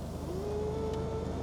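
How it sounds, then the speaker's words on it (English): An electric steering column motor in a cheap used Jaguar XF whirs with a rising then steady tonal hum, close and fairly quiet inside the cabin, lasting about a second. "Steering column adjust."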